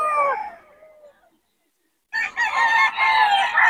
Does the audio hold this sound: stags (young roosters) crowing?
yes